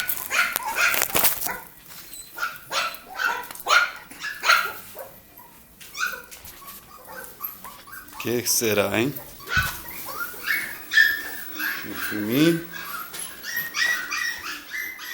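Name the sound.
dogs barking and whimpering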